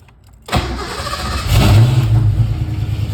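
A Ford Mustang with its clutch safety neutral switch disengaged starts without the clutch pressed: a sudden crank and catch, then the engine revs up loudly and settles into a steady, rumbling idle close by.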